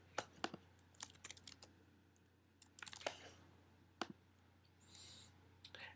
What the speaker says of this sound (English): I'm going to type my son's name